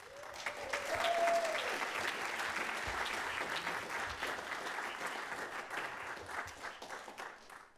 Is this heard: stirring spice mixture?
no